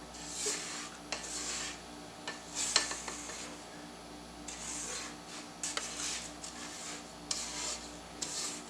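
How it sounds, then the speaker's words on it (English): A spatula scrapes around the sides of a mixing bowl of monster cookie dough, soft rubbing strokes repeating in short bursts with a few light clinks against the bowl, fairly quiet and close, with no talking. "Go ahead and scrape down the sides of our bowl."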